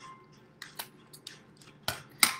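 Scissors snip through paper, cutting eye holes for an animal mask, a few soft crisp cuts in an irregular rhythm ending in two louder close snips, with quiet background.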